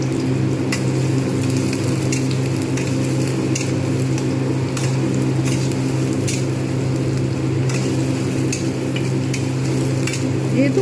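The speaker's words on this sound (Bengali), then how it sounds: "কুচনো পেঁয়াজটা আমি কিন্তু খুব ভালো করে ভাজবো" Finely chopped onions fry in a generous amount of oil for dhaba-style paneer bhurji, giving a steady, close sizzle with soft stirring scrapes and faint clinks throughout.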